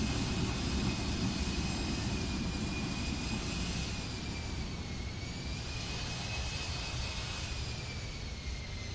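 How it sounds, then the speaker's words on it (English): An Embraer E170 jet in Microsoft Flight Simulator 2024 roars steadily through touchdown and reverse thrust on one engine, a broad loud rush of engine noise with whining tones above it, continuous throughout with no talking. "the touchdown sounds always sound loud, but I don't think they actually are"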